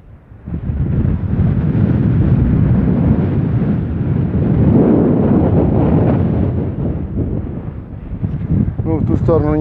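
Strong wind buffets loudly and continuously with a deep roaring rush, gusting in waves, at Quebrada del Condorito National Park, Argentina.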